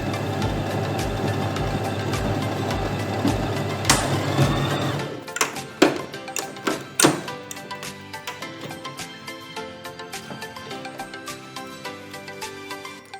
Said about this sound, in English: I'll just sew a straight line all the way down just to keep the seam in place.